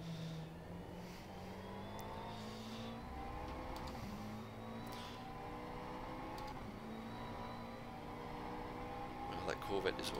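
A Corvette GT3 race car engine drones steadily in a racing video game at the Nurburg GP circuit, with a sustained engine whine and shifting pitch, fairly faint and continuous, ending in a few clicks.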